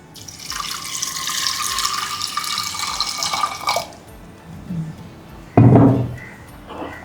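Water pours steadily into a pressure cooker for a few seconds, then stops, followed by a brief clatter and a metallic knock nearby.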